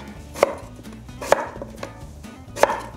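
A knife cuts a potato on a cutting board for doenjang jjigae, making three sharp, evenly spaced chops close up. A soft rhythmic background hum runs underneath, and no one speaks.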